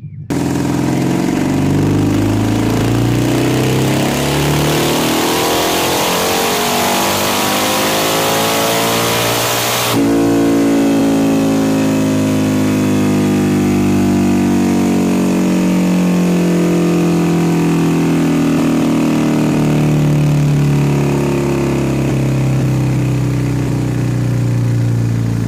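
A BMW R 100 RS café racer motorcycle with a custom-built exhaust runs close by, its engine revving steadily and loudly and falling and rising in pitch, with a sharp change in tone partway through.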